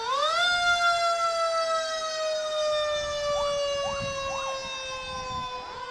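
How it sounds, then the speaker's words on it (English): Wakefield Ladder 1, a fire truck in a Fourth of July parade, sounds its siren as it passes: a loud wail rising then holding steady, with short chirping yelps near the end over crowd noise. "Now coming by is Wakefield's Ladder 1, our newest fire vehicle in the fleet."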